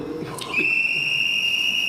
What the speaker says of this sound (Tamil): இந்த விசில் எடுத்து ஊதணும்